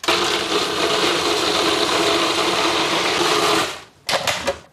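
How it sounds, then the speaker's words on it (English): A blender blitzes onions and ginger to a mush for a spicy beef shin stew, a loud, steady whirring grind that runs for about four seconds, cuts out, then gives two short pulses. "I've really blitzed the onions and the ginger to a mush here"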